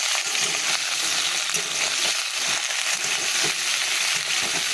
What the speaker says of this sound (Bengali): পাঁচফোড়ন, শুকনো লঙ্কা ফোড়ন দিয়ে দিয়েছি, দিয়ে এগুলোকে ভাজা ভাজা করি